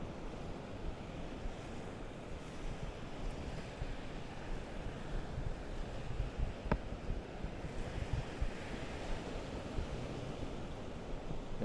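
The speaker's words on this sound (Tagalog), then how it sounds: "Ganda ng alon mo." Ocean surf rolls onto the shore at a shore-casting fishing spot, a broad continuous wash of breaking waves mixed with wind buffeting the microphone, steady and fairly loud with no voices.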